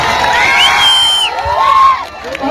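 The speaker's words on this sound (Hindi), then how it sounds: "इनके लिए एक जोरदार ताली के साथ स्वागत कीजिए आप लोग" A crowd at a village football final cheers and whoops loudly to welcome the chief guest, with shrill shouts rising over a dense, continuous roar.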